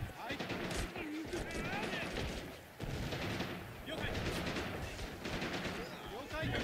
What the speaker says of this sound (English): I'm using the SMG and they're just not dying.